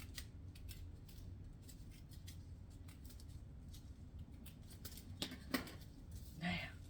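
Scissors snip through folded printer paper to cut a snowflake, a run of soft, close crisp cuts and rustles over a low steady room hum, with a louder paper crinkle near the end.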